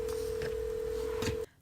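A telephone sounds a steady tone throughout while a call to a wedding chapel is placed, with brief dialing beeps layered over it before it cuts off abruptly.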